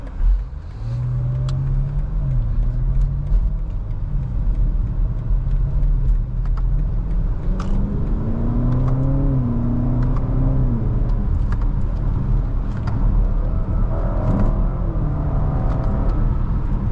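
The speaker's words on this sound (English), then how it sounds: "This car is ridiculously fast. It picks up speed like without you even trying." A 2020 BMW X5 M Competition accelerating hard while driving, its engine note rising steadily in pitch with a loud, continuous rumble heard from inside the cabin, no talking over it.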